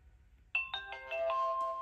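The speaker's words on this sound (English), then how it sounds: "we have to wait for this sound to get a confirmation that is on" A 4K vlogging camcorder plays its power-on confirmation sound, a short rising sequence of five or six clear electronic chime notes, close and fairly quiet, with no one talking.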